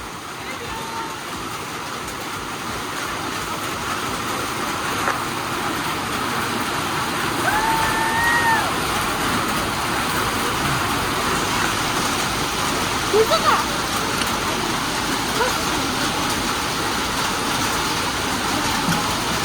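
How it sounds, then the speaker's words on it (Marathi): Heavy monsoon rain pours steadily in Surgana, a dense, loud, continuous wash of noise that persists throughout with no breaks. "सुरगाण्यात पण पाऊस चालू आहे आणि जोरदार पाऊस आहे."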